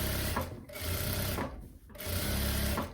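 A sewing machine topstitching a long paneled linen skirt runs in three steady whirring bursts, each several seconds long with brief pauses between as the fabric is repositioned, close and clear with no talking.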